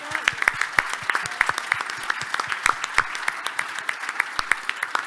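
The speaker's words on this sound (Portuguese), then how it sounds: "Uma salva de palmas para a Carminho." Audience applause at a Porto club day event, dense steady clapping from a crowd lasting the whole stretch, sharp individual claps standing out near the listener.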